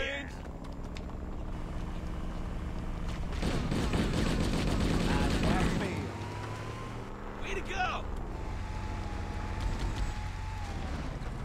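Gunfire from the Halo video game, bursts of automatic fire rising to a dense volley mid-clip amid vehicle engine noise, with a voice talking over the game sounds.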